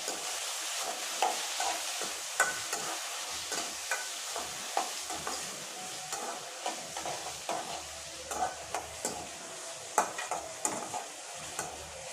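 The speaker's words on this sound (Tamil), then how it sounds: "சேர்த்து நல்லா நம்ம வதக்கி விட்டுடலாம்." Chopped ripe tomatoes sautéed in hot oil for a dried-fish curry, with a steady sizzle broken by a regular series of sharp spoon scrapes and clinks against the pan, close and alone.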